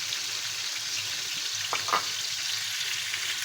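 Oil and tomato-onion puree frying in a pan over low heat, a constant dense sizzle with a couple of brief stirring scrapes midway, no talking.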